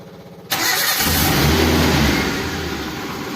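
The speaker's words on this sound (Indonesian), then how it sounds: "Oke, sekarang kita nyalakan mobilnya." A car engine cranks and fires, with a sudden loud catch after a quiet moment, then settles into a steady close idle that eases slightly toward the end.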